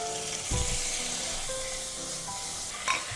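Paneer goes into a spiced mixture frying in a pan, giving a steady close sizzle with a soft thump of the pieces going in and faint stirring clatter near the end.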